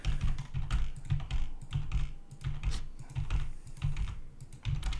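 Steady typing on a computer keyboard, rapid clicks and clacks in an irregular rhythm, close up, with no voices.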